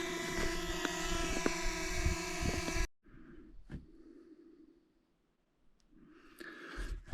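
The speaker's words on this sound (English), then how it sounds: "Just finished the first drone flight." A drone flying over lava fields gives a loud, steady whirring buzz at close range for about three seconds, then cuts off abruptly, leaving only quieter scattered background sounds.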